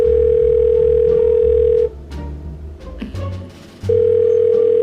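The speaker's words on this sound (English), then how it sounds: "Let me see if my grandson can answer the phone." A telephone line gives a steady, loud electronic tone that cuts off, leaves a gap of quieter background noise, then returns.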